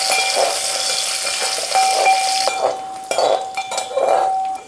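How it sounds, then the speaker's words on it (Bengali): Raisins and cashews fry in a spoonful of ghee in a pot for a milk-rice pudding, with a soft sizzling hiss broken by several sharp metal clinks and scrapes of a spoon against the pot. "এখন দিয়ে দিচ্ছি কিছুটা ড্রাই ফ্রুটস, কিশমিশ এবং কাজু বাদাম। ভেজে নিচ্ছি।"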